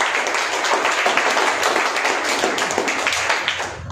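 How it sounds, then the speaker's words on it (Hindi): An audience breaks into applause on cue, a dense, steady wash of many hands clapping that holds at an even, fairly loud level for a few seconds with no talk over it. "ताली बजाओ एक बार।"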